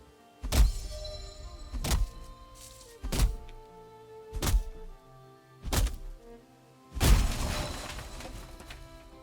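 Heavy axe strikes chopping wood in the survival game Valheim: five evenly spaced loud thunks about every 1.3 seconds, followed by a longer crashing, splintering burst, with no talking.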